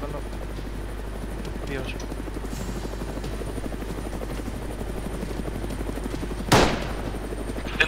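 A helicopter flies over the area in the video game ArmA III with a constant, close rotor drone. A sharp burst of gunfire cuts in late, and a voice speaks briefly.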